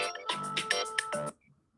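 A phone ringtone plays a short, bright musical melody of repeated synthetic tones, loud and close, then cuts off into near silence.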